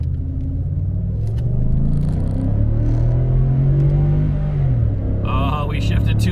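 A 2013 Ford F-150 truck accelerates hard from a standstill in manual mode, its engine note rising in a loud, rumbling climb, then dropping at a late gear shift near the end, heard from inside the cab.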